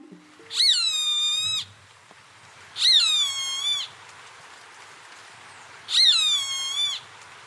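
Three shrill, drawn-out roadside hawk screams, each a harsh descending whistle about a second long, repeated at spaced intervals against quiet surroundings.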